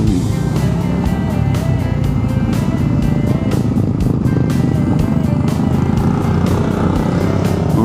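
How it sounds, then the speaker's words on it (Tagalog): Vehicles travel the hilly Bagac–Mariveles road in Bataan, a continuous loud rumble of engine and road noise with faint rhythmic pulses running through it. "Ayun oh, maraming sasakyan pa dito ah."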